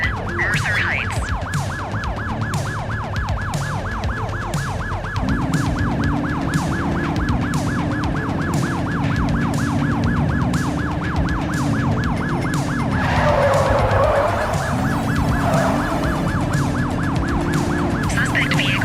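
Police car sirens wail continuously during a pursuit in the video game The Precinct, a fast yelp cycling loud and steady over a low engine hum, with a second wailing tone sweeping in and out partway through.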